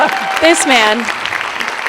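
An audience at an admin-focused tech session applauds steadily with a dense, even patter while someone speaks over it near the start.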